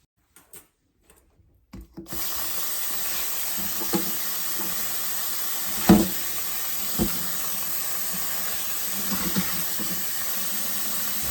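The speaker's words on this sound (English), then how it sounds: "let's go to the sink and rinse our cabbage" Water from a kitchen sink tap gushes over cabbage being rinsed, starting abruptly after a few soft knocks and then running as a steady hiss with occasional thumps as the leaves are handled.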